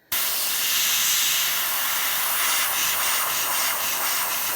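Spray primer from an aerosol can hisses onto a miniature during zenithal priming. The steady hiss starts abruptly after a short silence, then holds close and loud for several seconds with slight wavering and no voices.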